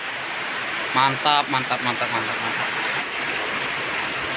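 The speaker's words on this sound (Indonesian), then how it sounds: "Yang tadinya cerah jadi hujan deras kayak gini Om." Heavy rain driven by wind pours down at a fishing spot, a dense steady roar throughout, with someone speaking briefly over it.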